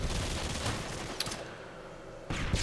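Automatic gunfire in Modern Warfare 2 multiplayer, rapid bursts of shots that run for about a second, stop, then start again, with the game's ambience in between and no talking.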